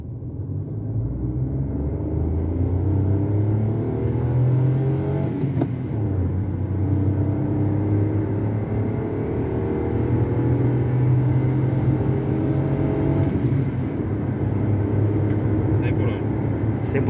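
Hyundai HB20 Sense 1.0 from 2020 accelerating hard, with a steady loud engine drone whose pitch climbs through the gears over a deep rumble, heard from inside the cabin with voices underneath.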